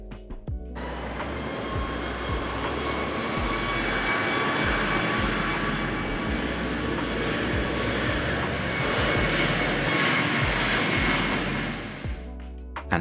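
A fixed-wing airplane at an airport roars steadily for several seconds with a broad engine rumble, heard from an outdoor terrace. The noise rises and fades slightly, and no one speaks.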